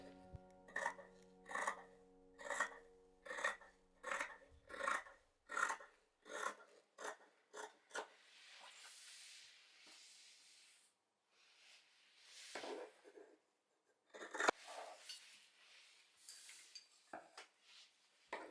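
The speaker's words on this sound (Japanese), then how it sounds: "今切っているところは表布と同じ大きさに切ります。" Scissors cut fabric for a small bag. Crisp, rhythmic snips come close and evenly spaced at first, then thin out into slower, irregular cuts and soft handling noises.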